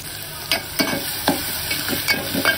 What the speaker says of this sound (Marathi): मिरची आणि कांदा। हे सर्व साहित्य आपण व्यवस्थित परतून घेऊया।